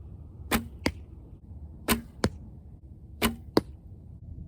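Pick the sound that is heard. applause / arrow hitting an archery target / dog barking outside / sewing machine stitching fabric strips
arrow hitting an archery target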